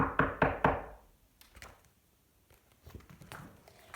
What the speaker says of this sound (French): boum, badaboum, quelqu'un frappe à la porte, si fort que la maison en tremble